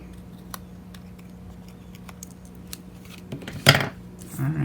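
Scissors snip excess paper off a handmade card: faint small clicks at first, then a louder cluster of sharp cuts near the end, close by, with quiet handling noise.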